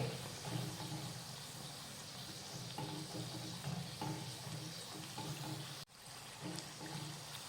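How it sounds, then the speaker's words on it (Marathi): Spicy Maharashtrian tikhat puri deep-frying in hot oil, a steady close sizzle and bubbling while a slotted spoon splashes oil over the top, no talking. "पुरी तेलात सोडल्यानंतर उलटायची अजिबात घाई करायची नाही आणि पुरीवर झाऱ्याने असं तेल सोडत राहायचं"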